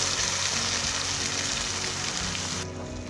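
Tomato spice paste hits hot oil for a spinach curry and sizzles in a loud, dense hiss that holds steady, then drops sharply toward the end into a quieter frying crackle.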